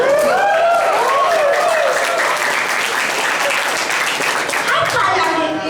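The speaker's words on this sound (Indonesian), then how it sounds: "Coba saya mau nanya, kenapa pada tepuk tangan?" A crowd claps at a sports motivational gathering, a loud, continuous wash of hands that fills the whole stretch. A voice or cheering rises and falls over the start of it.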